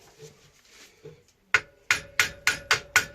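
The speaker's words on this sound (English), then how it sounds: "I'm actually going to use a metallic hammer just to give it a bit of a nudge to break that seal." A metal hammer strikes a part on a Honda CB250RS motorcycle being restored, first with a few soft taps, then six sharp, loud, evenly spaced blows ringing out close by to break a seal.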